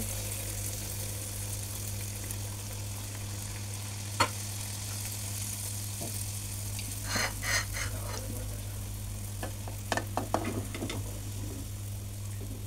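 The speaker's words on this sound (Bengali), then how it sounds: "এখন আরেকটা পিঠা ভেজে দিচ্ছি" Pitha rice cakes frying in hot oil give a steady, close sizzle over a low hum, with a few sharper crackles and pops that stand out in the second half.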